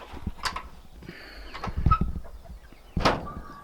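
Laying hens cluck and squawk in short bursts, a few birds calling close by with scattered rustling in between.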